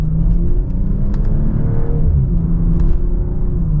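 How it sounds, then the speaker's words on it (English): A 2025 BMW M440i in sport mode pulls hard from second gear, its engine a loud, steady, close drone that climbs smoothly in pitch with no talking. "Nice mild acceleration and sport mode there."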